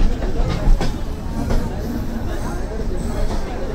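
A Diva–Ratnagiri passenger train rumbles along the tracks while switching tracks, with low, steady rolling noise and a few clacks, while voices murmur faintly nearby.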